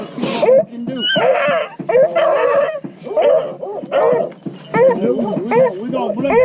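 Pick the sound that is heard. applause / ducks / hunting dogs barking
hunting dogs barking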